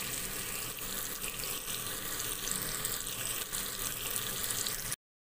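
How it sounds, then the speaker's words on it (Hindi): Water is poured into sizzling masala for an amla, almond or poppy seed curry cooked in a Jhelum village kitchen. A steady, dense hiss and bubbling crackle continues for about five seconds, then cuts off abruptly. "जी अब मैं इसके अंदर 3 गिलास पानी डाल दूँगी।"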